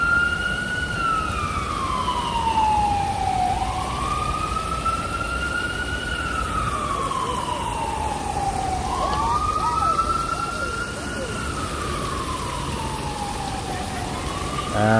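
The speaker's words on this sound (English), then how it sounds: "Oh, long time no hear sirens." Emergency vehicle sirens in New York City wail with long rising and falling sweeps, loud and steady across the whole stretch over a constant bed of city noise.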